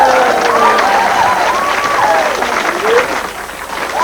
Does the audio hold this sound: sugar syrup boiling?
no